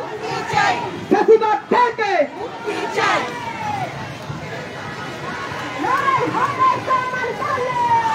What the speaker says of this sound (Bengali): এখানে বিভিন্ন স্লোগান দেওয়া হচ্ছে